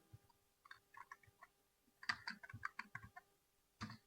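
Someone types on a computer keyboard, entering form details in MS-DOS. Quiet, close key clicks come in irregular bursts, with a cluster of sharper presses near the middle and a final tap at the end.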